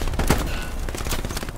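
In a chaotic online shooter match, rapid close gunfire cracks out in a dense burst, with repeated loud shots over a noisy battle background.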